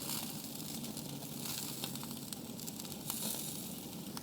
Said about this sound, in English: First rack, instant sear.